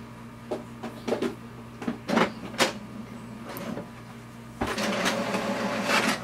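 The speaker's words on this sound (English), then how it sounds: "click on the print button and just give a printer command" HP Deskjet 2752 all-in-one printer running a print job: a steady mechanical hum with a series of sharp clicks and carriage clunks, then a louder continuous whirring feed in the last seconds, close by with no talk.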